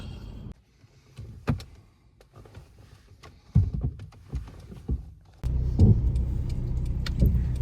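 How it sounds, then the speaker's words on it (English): A noisy van being driven, its engine rumbling on with road noise and rattles, interior clunks and a loud steady drone rising near the end, with no talking. "Back in the very noisy van"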